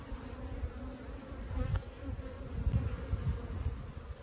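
A swarm of bees hums continuously at a colony nesting in a manhole cover, the buzzing close and full, swelling slightly toward the end with no speech over it.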